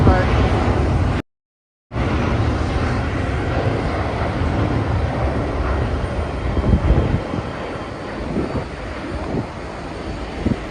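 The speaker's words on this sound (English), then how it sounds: "Oh, here's a Japan Airlines flight." Japan Airlines airliner at Haneda Airport, a steady broadband engine roar filling the scene with a brief dropout early on, heard from an observation area amid ambient noise.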